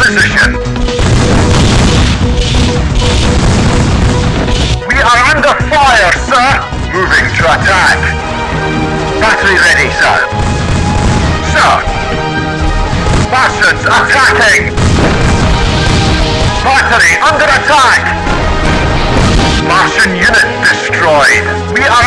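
Booming explosions and rattling gunfire fill a Jeff Wayne's War of the Worlds strategy game battle, loud and continuous, with a unit voice barking short responses over the din.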